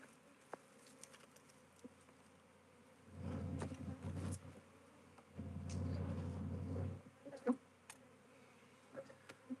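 Honey bee swarm buzzing, a faint background hum that swells into two dense, louder bursts of droning buzz, with scattered light taps and rustles between them.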